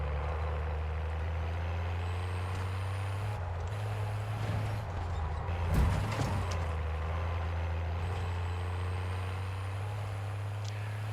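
A military truck engine in Call of Duty Warzone drones with a steady low hum throughout, with brief clunks and a mid-clip surge, alone with no talk.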